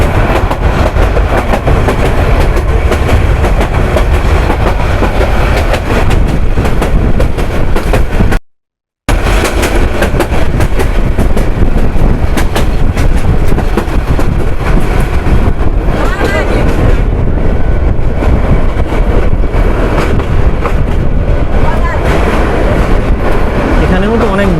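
The Egarosindur Provati passenger train runs on rails in Bangladesh, producing a loud continuous rumble and rattle from inside the carriage, with crowd chatter and voices mixed in and a brief dropout midway.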